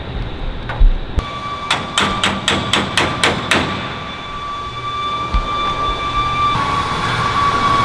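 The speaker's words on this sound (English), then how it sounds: "And then I'll put this on the bench and take the rivets out." A hammer strikes rivets out of Lancaster bomber brackets on a workbench: a rapid run of about eight sharp metallic blows, close and loud, followed by a lingering ringing tone and quieter workshop noise.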